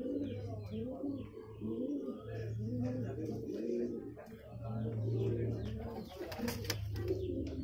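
Pigeons at a bird market near Jama Masjid in Delhi coo in soft, repeated throaty pulses close by, overlapping one another against a low hum and faint background chatter.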